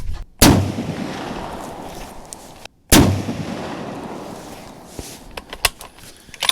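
Two loud rifle shots from a 1942 Remington Springfield 1903 at an outdoor range, a couple of seconds apart, each a sharp crack followed by a long booming echo that fades. Fainter clicks and knocks follow.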